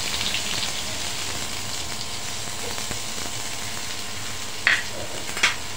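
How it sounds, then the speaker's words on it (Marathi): Chopped onion frying with cumin and asafoetida in a pan, a steady soft sizzle throughout with two brief sharp clinks near the end. "कांदा छान असा परतून घेणार आहोत लालसर होईपर्यंत।"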